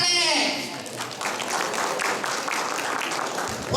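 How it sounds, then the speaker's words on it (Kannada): A stage audience at an Ugadi comedy skit show breaks into applause, loud at first and then settling into a steady wash of clapping. "ಚಪ್ಪಾಳೆ ಚಪ್ಪಾಳೆ."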